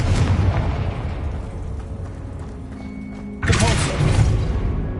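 Confringo spell blast in a wizarding video game, a rumbling explosive boom that sustains, then a second sharp burst of impact hits loudly mid-clip over a steady low background.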